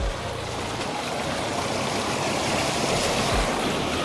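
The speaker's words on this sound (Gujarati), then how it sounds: "તો ગાઈઝ ખેતરમાં પાણી આવી ગયું છે." Borewell water gushes steadily into a farm field channel in a Gujarat village, a loud, close, continuous rushing and splashing that stays even throughout without any voices.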